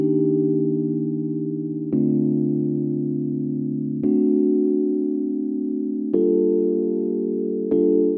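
Dry Addictive Keys electric piano with no effects plays a slow, simple chord progression, five sustained chords changing roughly every two seconds, warm and clear with no voices.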